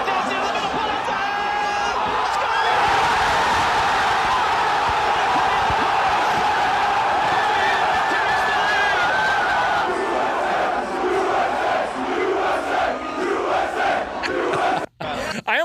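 A stadium crowd roars and cheers wildly at a US men's soccer World Cup goal against Iran. The sound is a dense, sustained loud roar with whoops, and it tapers briefly near the end.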